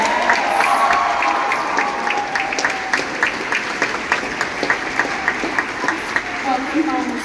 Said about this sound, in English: Let's clap for you.